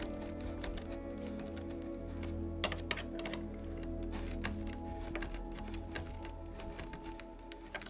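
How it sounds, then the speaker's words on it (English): Small screws driven into the hard plastic parts of a Tamiya 2021 Ford Bronco scale model give quiet, close clicks and ticks, a few sharper snaps standing out from a soft background hum. "so we'll just screw these in."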